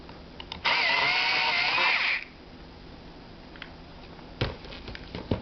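A 4-channel decapper/recapper for microcentrifuge tubes with adjustable torque set around 3, capping four tubes: a single loud motorized whir lasting about a second and a half, followed by quieter clicks and handling knocks.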